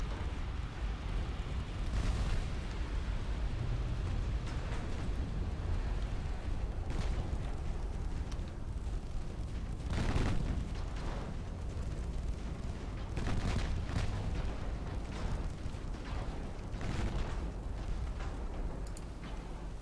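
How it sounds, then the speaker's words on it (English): Torpedo detonations on ships in the naval warfare game Ultimate Admiral Dreadnoughts, deep booming blasts that rise from a constant low roar, several heavy impacts spread through the stretch, the loudest near the middle. "Torpedo detonation."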